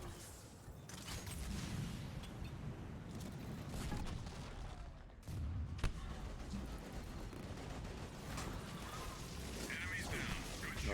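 Gunfire in a Mass Effect 3 multiplayer match, scattered bursts and single shots under a busy layer of game effects and low rumble, moderately loud throughout, with a voice talking intermittently.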